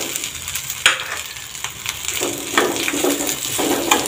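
Boiled potato frying and being stirred in a pan for sabudana khichdi, a steady close sizzle with scraping stir strokes and a few sharper clinks of the spatula, no talking.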